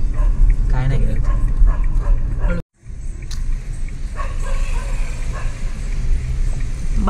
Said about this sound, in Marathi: हे बघ कुत्रा आहे हा.